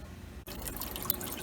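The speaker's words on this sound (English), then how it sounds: "Here we can see water is going into the tank." Water rushes into the fat separator tank of a commercial oven through an opened fill solenoid, a brief, steady splashing hiss that starts abruptly after a short pause and runs close and moderately loud.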